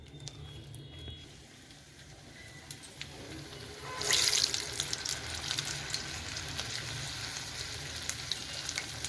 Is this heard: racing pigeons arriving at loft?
no